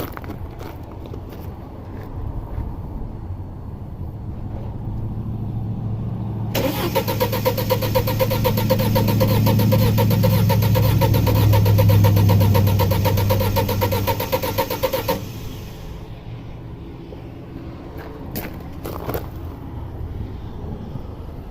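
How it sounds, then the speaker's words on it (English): A 2006 Audi A4 2.0T with a P0300/P0303 misfire, tested with a compression gauge, cranks steadily for about eight seconds, a loud, even mechanical whir that starts abruptly and stops just as sharply, with quieter workshop ambience before and after. "So I'm going to go crank this."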